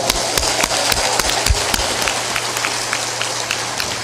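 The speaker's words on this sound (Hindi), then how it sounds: "ताली बजा दो जोरदार।" An audience at a spiritual discourse by Sant Shri Asang Dev Ji Saheb claps loudly in a steady, rhythmic patter of many hands over a rough, noisy background.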